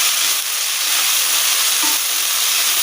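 Mint leaves sauté in a hot pan, giving a loud, steady, unbroken sizzle and hiss close by with no pauses.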